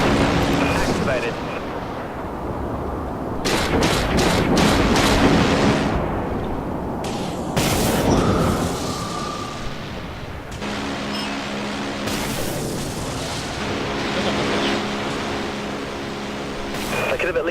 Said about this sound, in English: Flechettes locked and ready to fire.